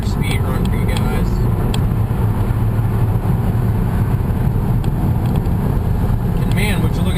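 A 2011 Audi A3 accelerating hard on a speed run, its engine drone steady and loud beneath heavy wind buffeting across the microphone, with a voice speaking over the noise.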